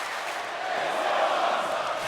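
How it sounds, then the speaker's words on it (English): A virtual arena crowd in the wrestling video game WWE 2K24 roars in a dense, sustained wash of cheering that swells slightly midway, with no distinct voices standing out. "The crowd letting them know that they're into it"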